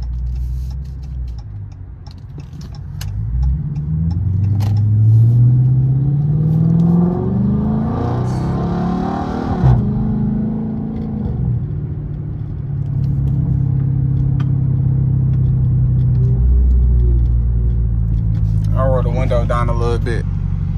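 A 2013 Chrysler 300C with a Hemi V8 rumbles up close, revving through rising and falling pitch sweeps before settling into a deep, loud drone, with a voice briefly heard over it near the end.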